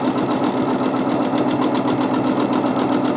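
A sewing machine doing free-motion quilting at close range, its rapid mechanical clatter running evenly throughout without pause.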